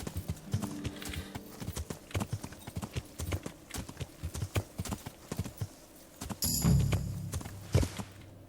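Horse hooves clip-clopping at a steady walk in the medieval game Kingdom Come: Deliverance, close and fairly loud, with a brief rustling burst and a soft snort near the end.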